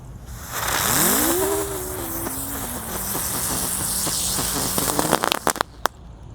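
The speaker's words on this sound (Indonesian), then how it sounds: "ada mercon teratai pretek yang warna hijau. Kita nyalakan teman-teman." A green lotus spinning firecracker fizzes with a rising whistle that levels into a steady hiss, ending in a burst of sharp crackling pops.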